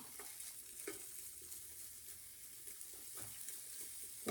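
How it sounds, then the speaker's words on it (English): Pancetta frying in a pan with a steady, quiet sizzle, broken by a few soft clicks of stirring; no talking. "we are going to now fry this for 8 minutes"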